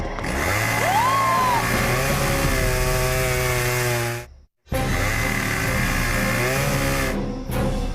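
A chainsaw runs loudly and close, its engine droning with a rising whine at the start, then cuts out briefly before revving again, with no talking.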